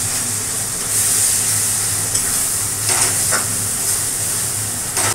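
Garlic and ginger paste fries in a hot pan with a constant close sizzle, broken by a few quick scraping stirs of a spoon against the pan.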